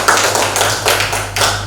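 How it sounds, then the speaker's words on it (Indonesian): An audience in a classroom session on MIT App Inventor mobile development applauds a presenting group, with brisk, close, slightly uneven claps carrying on steadily for a couple of seconds. "Kita beri aplaus untuk"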